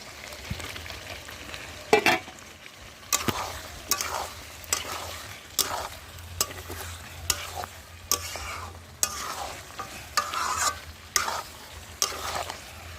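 Chicken kosha with potatoes fries in a pan under a steady low sizzle, while a spatula scrapes and stirs in regular, close strokes about every second; no one speaks.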